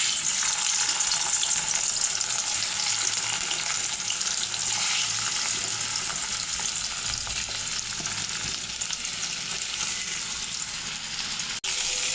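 Rohu fish pieces coated in turmeric and salt fry in hot oil with a steady, dense sizzle that holds loud and even throughout, with no talking.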